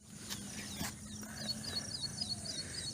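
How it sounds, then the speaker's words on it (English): Birds chirping in a misty forest near Andharban outside Mumbai, with faint, high repeated calls over a soft hum of insects and background ambience, distant and quiet. "We can hear the birds"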